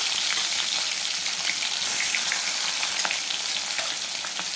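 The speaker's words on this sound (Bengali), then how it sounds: "এবার আমি মাছগুলোকে ভেজে নেবো" Bhetki fish pieces frying in mustard oil with a loud, dense crackling sizzle, close and continuous with small pops throughout, and no one speaking.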